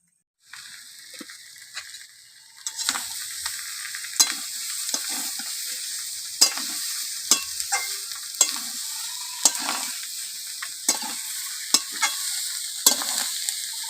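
Spices are stir-fried for a fish head chorchori, a soft continuous sizzle that swells once the pan heats, broken by regular sharp scrapes of a spatula, with no talking.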